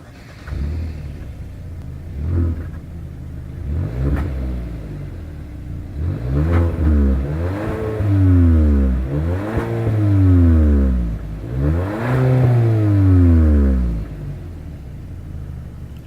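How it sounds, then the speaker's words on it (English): A 2020 Hyundai Sonata SEL with a single exhaust is revved repeatedly from idle, about five rising and falling engine sweeps heard close and loud at the tailpipe, with no talking. "As always, here is that exhaust clip."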